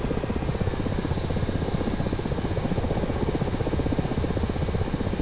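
Ka-50 Black Shark helicopter engines turning over at startup in the DCS flight simulator, a steady, loud turbine-and-rotor drone that holds constant throughout with no voices.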